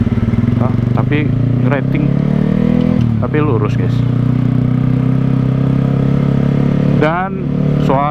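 A motorcycle engine with a Proliner muffler idles and revs, a deep, round, throbbing exhaust note that stays loud and close, with several quick throttle blips rising and falling while someone talks over it.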